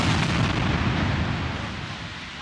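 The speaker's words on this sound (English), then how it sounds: "Israeli airstrikes have been pounding Gaza" Israeli airstrike bombs exploding in Gaza, a loud sustained rumbling blast that slowly fades, heard alone without talk.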